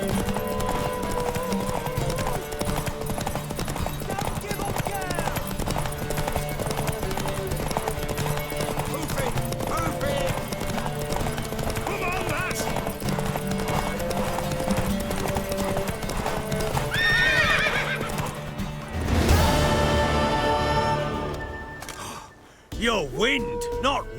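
Horse hooves clip-clop steadily through a scene in The Witcher 3, with a mare's whinny and snorts rising near the end, heard beneath game music and voices talking throughout.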